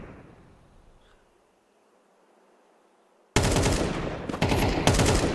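Loud bursts of rapid automatic gunfire from a Counter-Strike esports match, a rifle firefight erupting abruptly after a few seconds of near silence and continuing densely to the end.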